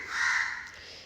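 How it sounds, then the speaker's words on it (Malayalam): A single crow gives one fairly close, harsh caw that swells and fades within about a second, with no talking. "അതാണ് കാക്കകൾ ഇങ്ങനെ കരയുന്നത് കേട്ടോ."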